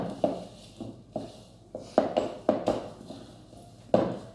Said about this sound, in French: On met de l'eau et on prend le temps de bien mélanger les farines.